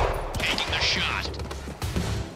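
A sniper rifle fires in the video game Quantum Break, a sharp shot cracking out amid a dense mix of gunfire, explosions and game noise, with voices talking over the action.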